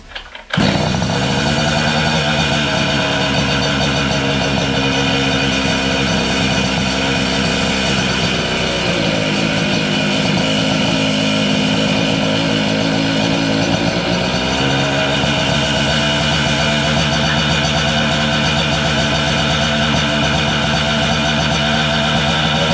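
A Puch Maxi moped with Selettra ignition and Homoet P8 upgrade starts up and rides off, a loud buzzing two-stroke engine revving steadily and rising and dipping in pitch throughout.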